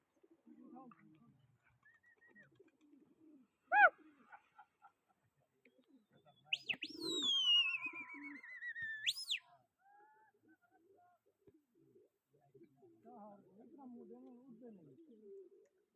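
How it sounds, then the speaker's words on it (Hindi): Pigeons coo during a pigeon-flying competition, a few soft nearby coos and calls scattered among quiet stretches, with people talking at points. "कबूतर माशाल्लाह उड़ रहे हैं"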